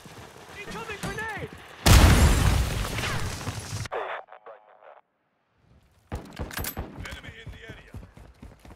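A thermite charge and a grenade explode in Call of Duty Modern Warfare II: a loud, roaring two-second blast, then a short sizzling burst, silence and renewed gunfire-like clatter. Radio-style voices speak around it.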